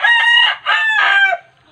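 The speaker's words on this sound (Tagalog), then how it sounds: "Yan ang ingay ng mga manok guys." Two loud, close rooster crows in quick succession, strained and harmonic, with a faint hum of other fowl trailing off afterward.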